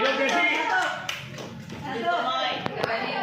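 A group claps together in a steady patter of applause in a teacher training session, with voices talking over it throughout.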